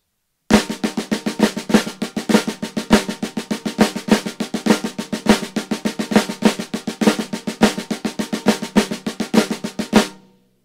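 Snare drum playing a steady paradiddle pattern with flammed accents, a dense, unbroken stream of crisp strokes with accents recurring for about ten seconds, close and loud, then stopping abruptly.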